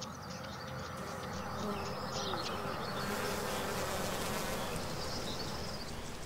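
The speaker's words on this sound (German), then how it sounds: "Im Nördlinger Ries findet man eine besonders seltene Art dieser mörtelnden Wildbienen." A rare mortar-building wild bee from the Nördlinger Ries buzzes steadily and close, a continuous insect drone with a faint bird call in the background.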